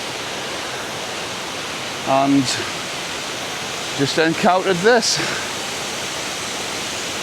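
Aros waterfall on the Isle of Mull gives a steady, hissing roar of rushing water that runs unbroken through the whole stretch, with someone speaking briefly over it.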